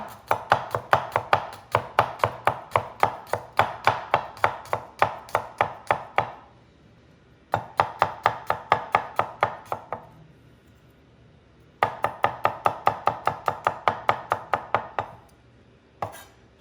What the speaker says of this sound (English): I'm kind of just chopping the garlic